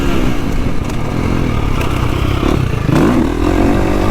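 A Honda CRF250 Works Edition dirt bike engine revs hard and steadily up close, its buzzing four-stroke note rising and falling in pitch as it pulls through the gears, with no voices.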